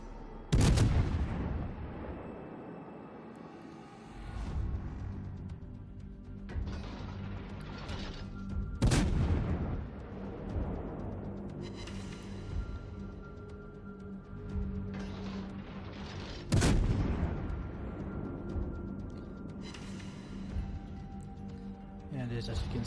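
Battleship naval guns firing in a video game, a few heavy booming blasts spaced several seconds apart with long rumbling decays, amid continuous low battle noise and layered under steady talk.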